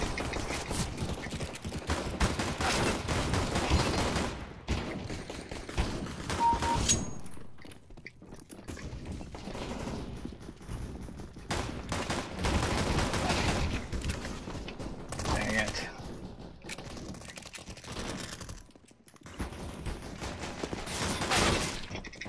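Dense gunfire from the video game CS:GO, with rapid overlapping bursts of shots that run nearly continuously and loud, broken by a few brief gaps.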